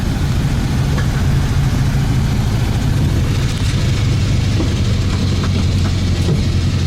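A steady, loud engine drone with a low rumble runs throughout, constant and unbroken, from a 1974 VW Super Beetle with stock carburetor and stock exhaust, heard from inside while driving.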